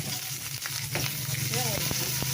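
Chopped onion sizzles steadily in a pan for a sautéed squash (kalabasa) dish, with a continuous close frying hiss and a few sharp clinks and scrapes from a ladle.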